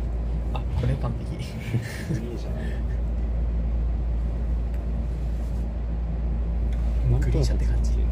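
Low, steady rumble inside a Green Car of a rapid train running from Narita to Chiba, with people talking intermittently over the constant running noise.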